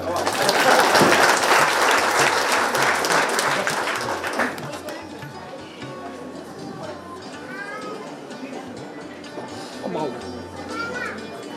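An indoor audience at a Marathi honouring ceremony claps loudly for about four seconds, the applause dying away into a quieter room with chatter and children's voices.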